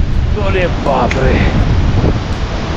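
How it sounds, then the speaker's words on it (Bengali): Strong mountain wind roars steadily across a stone-paved trekking trail on the Kanchenjunga Base Camp route between Thangyam and Phale, a loud continuous gusting rush with faint voices mixed in. "কি হাওয়া লাগছে"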